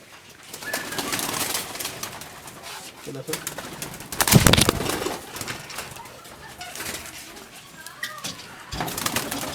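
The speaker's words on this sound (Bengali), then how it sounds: "আমাদের সামনে অনেকগুলা ঘুঘু দেখছেন বিভিন্ন কালারের" Doves of various colours on a dove farm coo repeatedly and fairly close, with a louder burst of fluttery movement in the middle and faint voices in the background.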